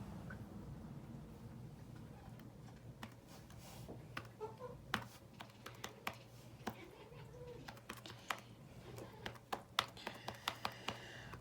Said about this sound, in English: Test out the typing